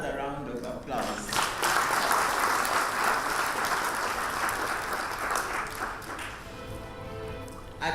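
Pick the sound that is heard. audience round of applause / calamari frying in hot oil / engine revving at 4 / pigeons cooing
audience round of applause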